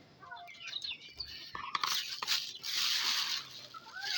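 Pet pigeons feed on imported seed mix, with soft chirps and coos, light pecking and rustling of grain up close, and a burst of louder scratchy activity midway.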